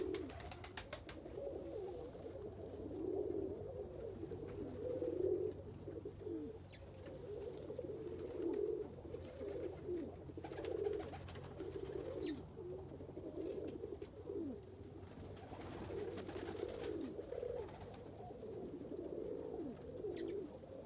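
Pigeons or doves coo steadily in a low, rounded murmur throughout, several birds overlapping in a continuous soft chorus during a snowstorm, with no talking.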